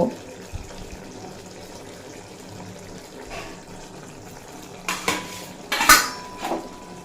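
Ground roasted spices stirred into a mixed vegetable curry in a pot, with a low background hiss and a few sharp metal scrapes and clinks of a spoon against the pot near the end.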